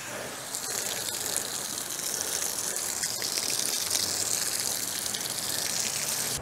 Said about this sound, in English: Now I'm just going to water this a little bit.